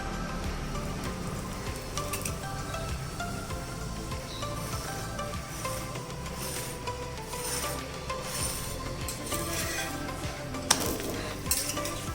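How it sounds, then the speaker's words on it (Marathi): A methi paratha roasting in oil on a hot pan gives a continuous dense sizzle, with scraping and light utensil clatter over it throughout and no speech. "असा भाजून घ्यायचा आहे पराठा. खूप छान भाजतो खालून."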